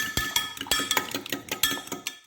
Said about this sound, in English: give those eggs a really good whisk up